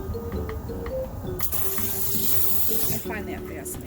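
Tap water running and splashing while a rock tumbler barrel is rinsed out, separating rock mud and grit, a steady close gush with brief louder bursts in the middle and a faint tonal hum underneath.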